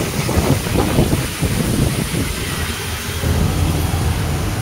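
Rain falls near Morbe Dam in Panvel as a constant broadband roar mixed with gusty wind buffeting the microphone. Low rumbling fills the background and no one speaks.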